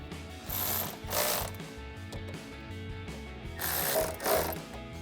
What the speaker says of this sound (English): we can come back to our throttle body and tighten down our 2 clamps. You can use a flathead screwdriver or an 8mm socket for this